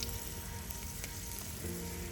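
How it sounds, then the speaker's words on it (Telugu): Dried red chillies dropped into hot oil for a tempering, a brief, soft, steady sizzle heard close up on its own. "ఎండుమిర్చి వేసుకుందామండి."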